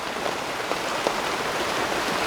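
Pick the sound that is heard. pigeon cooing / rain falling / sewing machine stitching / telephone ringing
rain falling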